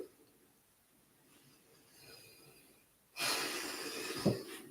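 Quiet at first, then a long, audible exhaling breath rises close to the mic and trails off with a slight wheezy edge.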